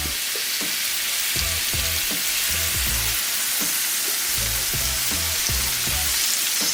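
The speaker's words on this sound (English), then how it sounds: "we're going to sear our salmon for about 2 minutes per side" Salmon fillets sear skin side down in melted butter, giving a steady, loud sizzle that runs the whole time with soft pops and crackles scattered through it.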